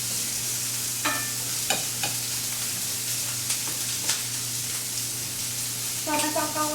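Eggs and milk for an omelette are stirred in a bowl, making a continuous soft swishing with a few light clinks. Brief voices break in now and then.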